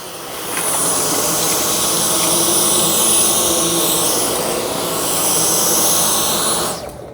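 Dyson Cyclone V10 Origin cordless vacuum running on carpet, a loud steady whooshing whine of suction with a high tone on top, constant for several seconds before cutting off near the end.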